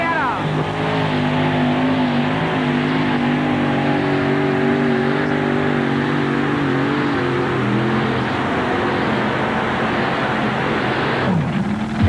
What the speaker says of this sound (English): Watch him bend that throttle as he comes off the line.